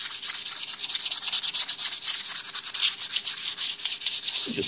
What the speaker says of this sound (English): I'm gonna take some 320. I'm gonna scuff it up real fast